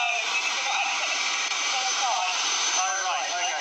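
Helicopters at a helicopter academy make loud, continuous turbine whine and rotor noise that sits close and steady, with no breaks and no talk.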